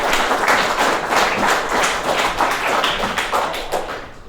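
An audience applauds a speaker at a tech talk on Meteor and Cloudant, a dense steady clatter of many hands clapping close by for about four seconds and thinning out at the end, with no voices over it.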